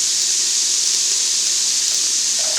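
Yellow onions and a piece of lemongrass sauteing in a pan give off a steady, bright sizzling hiss that stays even throughout, close and alone without talk.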